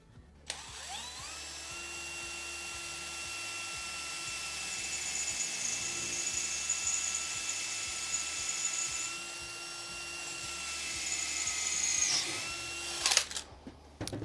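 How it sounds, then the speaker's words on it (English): A power drill drilling metal whines at high speed in a steady, sustained tone, rising slightly in strain toward the end before cutting off abruptly. "we want to put it onto high speed because we're doing drilling now"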